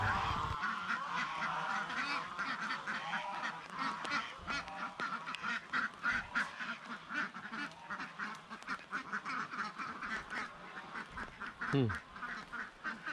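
A mixed flock of ducks and geese on a rural Laotian farm keeps up a busy run of overlapping quacks and honks, close and fairly loud throughout, with no voices.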